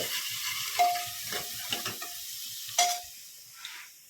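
Hot oil crackles softly as spices fry for a dal tempering, with scattered stirring scrapes and a couple of sharp metallic clinks from a utensil against the pan.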